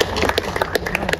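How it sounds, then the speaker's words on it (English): A brief patter of audience clapping at a film event in Accra, Ghana, with scattered distinct claps close together over about a second. "So please give a big round of applause to you."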